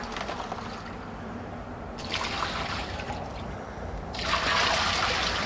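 Water pours into a concrete mixer holding dry mix for building a wall, heard as a steady trickling wash that swells in bursts, louder near the end, with no talk.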